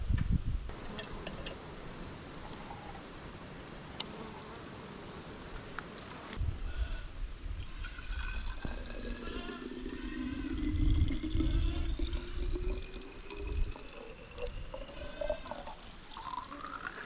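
A small stream of spring water seeps out of the ground on a hillside, making a steady, soft trickle and gurgle with some outdoor rustle and no voices.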